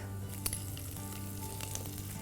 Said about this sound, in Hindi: अब इसमें डालेंगे जीरा, सौंफ, अदरक,